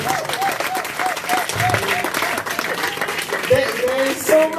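A crowd at a Carib Santa Rosa First People gathering applauding their Chief: continuous, moderately loud clapping that fills the whole stretch, with voices and some faint tonal sounds mixed in.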